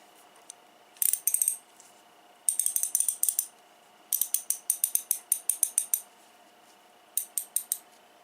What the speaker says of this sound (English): Just another nice ratchet from Carlisle.